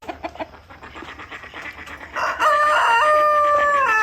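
A rooster near two ducks clucks in short bursts, then lets out a loud, drawn-out crow close by that carries to the end.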